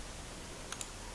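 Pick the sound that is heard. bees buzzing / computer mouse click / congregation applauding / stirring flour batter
computer mouse click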